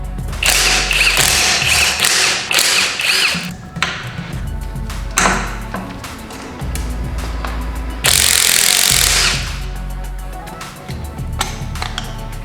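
Hand tools work on a gear-driven-cam motorcycle engine during teardown, loosening parts to reach the cylinder head bolts: repeated metallic clicks, ratchet taps and clanks, with a longer loud rasping burst near the end, close and busy throughout.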